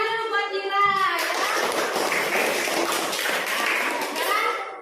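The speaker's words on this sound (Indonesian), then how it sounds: "Tepuk tangan dulu buat Ira ya." Classroom applause from a group of schoolchildren, dense clapping that starts about a second in after a brief voice and continues steadily, close and fairly loud, with children's voices mixed in.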